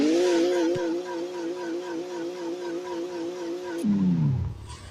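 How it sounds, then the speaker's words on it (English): A rear-wheel-drive drift car set up in Car Parking Multiplayer holds a steady, loud engine drone as it does a burnout, then the revs drop and wind down sharply near the end. "And now back to the burnouts."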